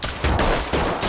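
Bursts of gunfire come from the tactical shooter video game Ready or Not, a rapid fusillade of loud, close shots packed into about a second.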